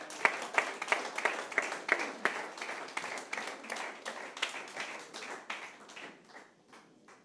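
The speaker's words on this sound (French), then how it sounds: "On peut l'applaudir" A small audience applauds an award recipient collecting a label of excellence. The clapping is moderate and slightly uneven, with distinct individual claps that thin out and fade over several seconds.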